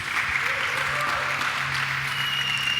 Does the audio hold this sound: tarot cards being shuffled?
no